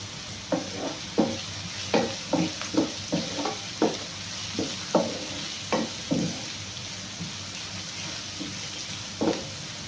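Curry leaves crackle and sizzle as they fry in hot oil in a pan, with a series of sharp pops and stirring scrapes in an irregular rhythm, fairly close and moderately loud, without any talk.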